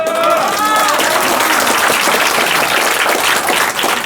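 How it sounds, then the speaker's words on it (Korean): Audience applause at a large outdoor political lecture near Seoul Station, a dense steady wash of clapping from a big crowd lasting throughout, with faint voices mixed in early on. "박수를 또 너무 많이 치시면 제가 진도가 안 나가."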